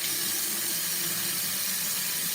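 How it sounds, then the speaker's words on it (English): Tap water runs steadily into a spray bottle with a soft, hissing rush, fairly quiet and unbroken for a couple of seconds, with no one talking. "Now I'm about to put some water in this bottle right here"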